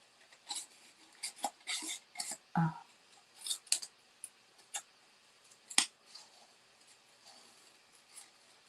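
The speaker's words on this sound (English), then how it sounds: "We are going to cut this out. Fussy cut it." Scissors fussy cutting around the lettering of a paper Christmas card, giving a close, irregular series of crisp snips and short paper rustles with brief pauses between cuts.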